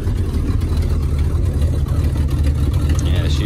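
A 1971 Ford F250 Camper Special pickup engine rumbles loudly and steadily at idle after a cold start, close by, with deep low throbbing throughout and faint talk beneath it.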